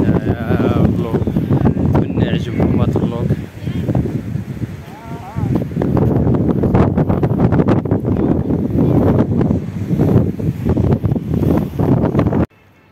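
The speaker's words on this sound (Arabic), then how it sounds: "البحر كاين الريح بزاف" Strong wind buffets the microphone in a large park by the sea in Tangier, a loud continuous rumbling roar with gusty swells throughout, voices talking underneath and the wind briefly easing near the middle.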